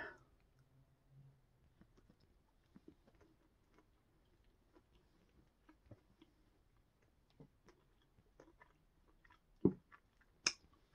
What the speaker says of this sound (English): I'm crunching on sprinkles.